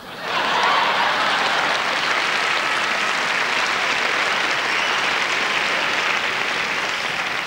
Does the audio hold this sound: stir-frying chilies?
no